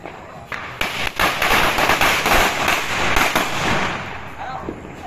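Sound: firecracker exploding

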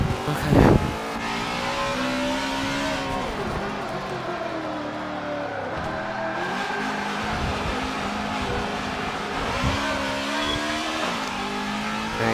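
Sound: race car driving at Sonoma in video game Forza 7

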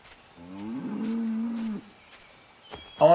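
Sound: cow mooing in Assassin's Creed 3 video game

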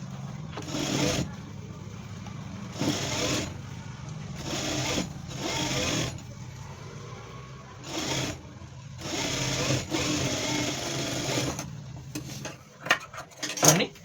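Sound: sewing machine stitching a blouse

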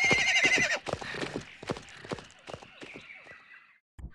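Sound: horse neighing in Futurama video game

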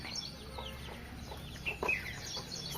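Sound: birds chirping and chickens clucking at dawn

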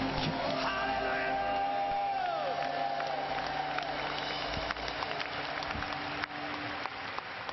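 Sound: applause and shouting of a church crusade crowd

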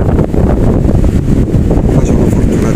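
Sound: wind blowing on a beach in Fuerteventura

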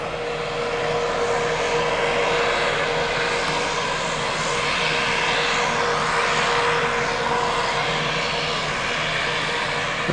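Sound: seaplane flying past a ship in Alaska

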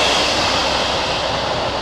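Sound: train passing

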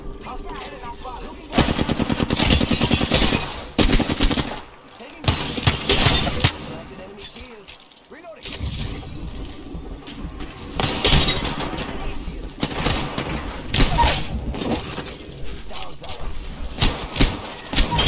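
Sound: gunfire in a video game

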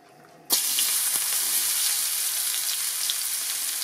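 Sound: chopped onion frying in hot oil

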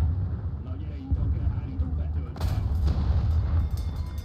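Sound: tank cannon fire in the video game War Thunder

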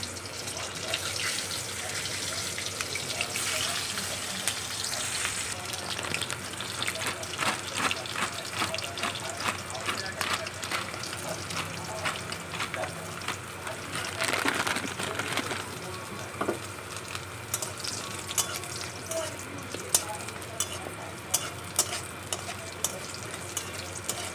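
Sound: lentil dumplings (bori) frying in a pan

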